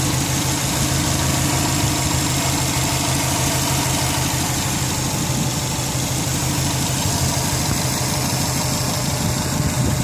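A 2009 Subaru WRX with a Turbo Smart Compact blow-off valve idles steadily up close, a loud, even engine rumble with a fast, regular pulse running unbroken throughout, with no voices.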